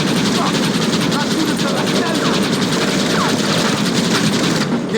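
Sustained rattling fire from a mounted gun in Red Dead Redemption, a dense and loud continuous stream of rapid shots under battle noise and shouting voices.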